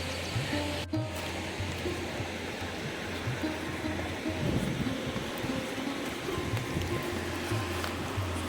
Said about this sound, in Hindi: यहाँ पे तो पानी की धार बहुत तेज है